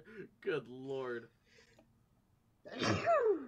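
A person speaks a brief exclamation, then after a short pause comes a sharp, loud sneeze that trails off.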